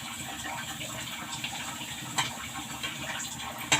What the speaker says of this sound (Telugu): ఇప్పుడు ఇదే ఆయిల్లో ఈ 4 అప్పడాలు వేసుకుందాం.